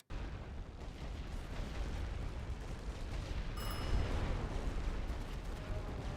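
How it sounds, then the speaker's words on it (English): A rolling artillery barrage in the First World War strategy game The Great War: Western Front produces continuous dense booming explosions that build and rumble in layered bursts, heavy at the low end. "Incoming order for rolling barrage."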